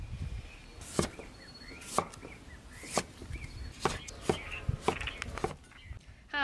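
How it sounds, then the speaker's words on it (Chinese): Food, including pickled vegetables, is chopped with a knife on a board, giving a run of sharp, evenly spaced thuds roughly once a second, close and fairly loud. "让我们拿起切一切哈"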